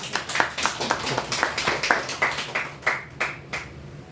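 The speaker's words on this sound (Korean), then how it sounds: "박수 한번 부탁드릴게요" A small audience at a neighbourhood redevelopment forum claps in a loose, uneven burst, individual hand claps distinct and fairly close, thinning out toward the end over about four seconds.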